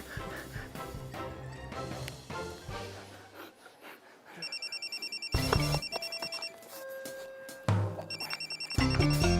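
A mobile phone rings in repeated electronic bursts over background music, with a short pause between ring sequences; the tone is loud and close.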